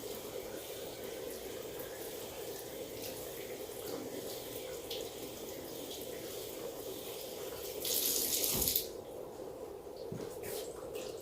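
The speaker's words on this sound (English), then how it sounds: "I'll head back to the sink, warm up the water, refill the bottle" Warm water runs steadily from a sink tap while a bottle is refilled, a constant hiss throughout with a brief louder gush near the end.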